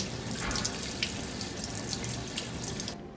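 Running tap water rinsing the parts of a SimulEYE small pupil eye model under a faucet, a steady close splashing rush that stops abruptly at the end.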